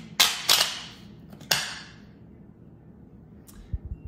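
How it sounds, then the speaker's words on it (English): A speed loader pushes ammunition into a handgun magazine, giving three sharp metallic clacks close by in the first second and a half, then a quiet pause and a few soft rattles at the end. "And just like that, the entire magazine's loaded."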